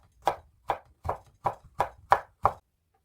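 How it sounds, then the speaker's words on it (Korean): A knife chopping prepared ingredients on a cutting board during a Korean cooking certification practice, seven evenly spaced firm chops in a steady rhythm, close and clear with no talking. "자, 썰어 보도록 하겠습니다."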